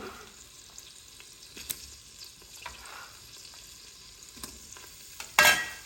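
Chopped onions sauté in the bowl of a Cookeo multicooker with a faint, soft sizzle, marked by scattered light clicks and a louder clatter near the end, close and quiet.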